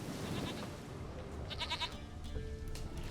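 A goat in The Witcher 3 bleats a few times close by, short wavering calls over game ambience.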